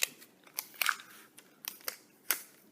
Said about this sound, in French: Donc, on découpe un papier comme ça.